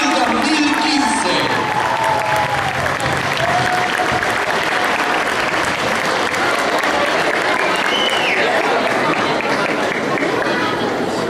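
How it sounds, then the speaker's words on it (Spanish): An audience gives loud, sustained applause for a youth ballet group taking the stage, a thick, close roar of clapping mixed with crowd noise and some cheering that runs unbroken throughout. "Recibamos a estos chicos con un gran y caluroso aplauso"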